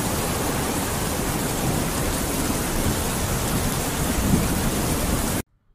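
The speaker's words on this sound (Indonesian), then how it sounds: "Hujan turun dengan derasnya." Heavy rain pours down in a dense, steady hiss with deep rumbling thunder underneath, loud and unbroken until it cuts off abruptly at the end.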